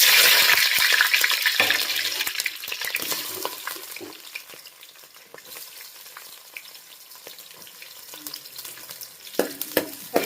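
Whole spices (bay leaf, cinnamon, shahi jeera and cardamom) fry in hot oil for a mutton biryani dish, giving a bright, steady sizzle with crackles and a few stirring scrapes, loudest at the start and easing off.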